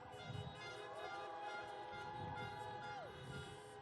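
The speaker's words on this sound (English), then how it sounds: "So honk your horn if you want America to lead again." Car horns honk at a drive-in presidential campaign rally in Falcon Heights, Minnesota, with overlapping sustained toots of different pitches blaring continuously over a crowded, noisy background.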